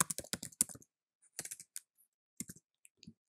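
Quick clusters of computer keyboard keystrokes as a name is typed, crisp close clicks in two short runs with sparse taps and a quiet gap between.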